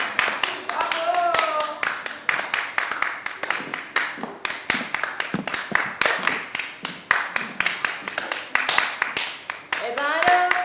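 An audience claps after a film screening, dense continuous hand clapping lasting throughout, close and loud, with voices speaking over it.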